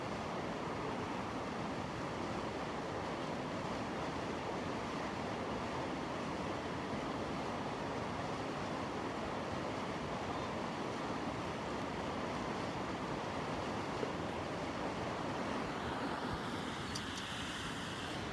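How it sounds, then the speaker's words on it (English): Steady roar of water spilling over a river dam, a dense continuous rush heard close and loud for the whole stretch, with some wind buffeting the microphone and no talking. "the water is spilling out of the dam"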